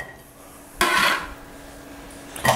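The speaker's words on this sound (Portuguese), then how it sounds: "agora eu vou colocar essa cebola todinha aqui na panela" Chopped onion tips into a cooking pan with a short burst of clattering and scraping against the metal, then quiet, with another brief clink at the end; no talking.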